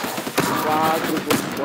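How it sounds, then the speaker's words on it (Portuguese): Bursts of rapid gunfire crackle in the video game Fortnite, two short volleys heard close while a player talks excitedly over them. "Como é que o gajo acertou tantos tiros em mim?"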